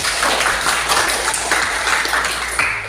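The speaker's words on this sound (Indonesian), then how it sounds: "Tepuk tangan" Students in a classroom during a teaching lesson clap together in a short burst of uneven, close-up applause lasting under three seconds, with a faint hum in the background.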